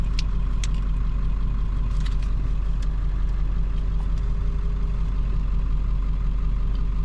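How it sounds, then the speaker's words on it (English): Vehicle engine easing down while driving on a rough, vibrating road, a continuous low drone and deep rumble inside the cab with steady road noise and no talking. "The engine's coming down."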